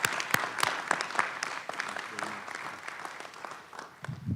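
Audience applause at a county board of commissioners meeting, sustained clapping with sharp individual claps standing out, moderately loud throughout before a voice begins at the end.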